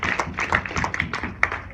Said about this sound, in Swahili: Naomba tupige makofi, sio ya siasa, makofi ya furaha.